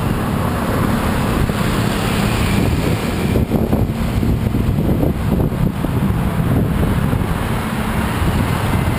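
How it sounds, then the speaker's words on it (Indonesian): Strong wind buffets the microphone in a continuous loud rumble at a high, exposed spot where bicycles are not allowed, with low-pitched gusting and no voices. "kondisi anginnya besar"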